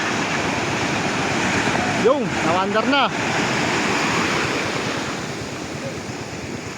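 Big ocean waves surging around a boat out at sea, a constant roaring wash of water and wind noise, with a voice briefly talking over it partway through.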